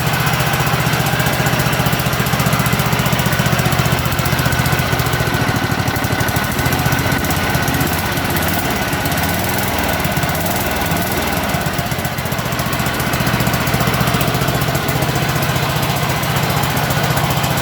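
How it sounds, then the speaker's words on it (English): A small John Deere lawn tractor engine runs steadily throughout, a loud continuous mechanical drone with a rough, throbbing low rumble and no voices. "Still runs perfect."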